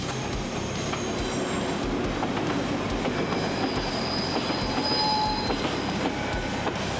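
A train rumbles steadily along the tracks with a constant roar, rhythmic wheel clatter and faint metallic squeals, close and continuous.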